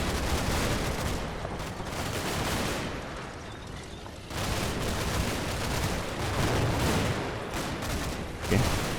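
Dense gunfire from an infantry fight in the video game Combat Mission: Battle for Normandy, a continuous crackling fusillade of rifle and machine-gun shots that barely lets up, with a sharper burst near the end.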